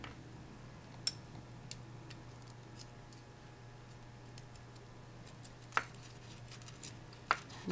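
Scissors trimming thread after pearl knotting on a beaded strand: a few sharp, isolated snips spaced seconds apart, faint and close, against a quiet room hum with no talking.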